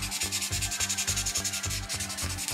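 Fine sanding of primer on a scale model car body, a quick regular back-and-forth rubbing with about a dozen strokes in a steady rhythm, close and alone.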